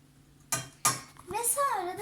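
A spoon stirs flour and starch for pudding in a pot, giving two sharp metallic clanks followed by a voice speaking.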